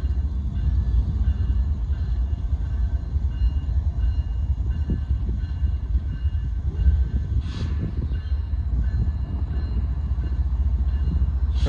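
A northbound Union Pacific mixed freight train rolls past at close range, a steady low rumble of wheels and cars filling the whole stretch with no talk over it.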